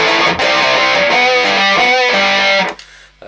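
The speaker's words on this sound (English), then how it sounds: "You're going to click your distortion back on, go back to the riff we did at the start." A loud, heavily distorted electric guitar plays a sustained riff, then cuts off abruptly, leaving a faint tail.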